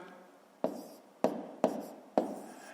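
Numbers being written out for column multiplication in a fifth-grade maths lesson: four short, close, quiet scratching strokes spaced about half a second apart, with no speech.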